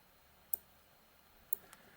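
A computer mouse gives two soft, close clicks about a second apart, with a fainter third tick just after, in a quiet room with no talking.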